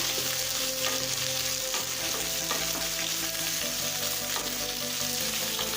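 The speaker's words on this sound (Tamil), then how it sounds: "இப்படி நீங்கள் எண்ணெயில் வதக்கிறதுனால கத்திரிக்காய் சீக்கிரமாக வதங்கிடும்." Brinjal, green or violet, sautéing in oil in a pan for a biryani-style brinjal masala, a steady close sizzle and crackle with occasional stirring scrapes, no voices.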